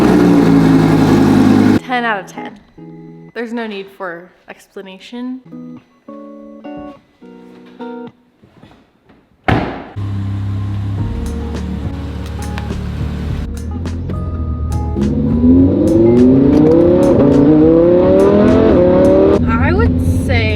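A Lamborghini Huracan starts with a loud burst of engine noise that drops into short revving bursts, then rises into a sustained roar of climbing revs, with a person talking in the quieter middle stretch.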